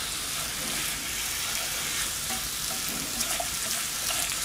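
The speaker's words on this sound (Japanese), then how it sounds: "じゃあもうちょっとウインナーを焦がしてやりますか" Sausages fry in a pan with green beans, king oyster mushrooms, carrot and garlic, giving a steady, close, continuous sizzle with soft crackles and no pauses.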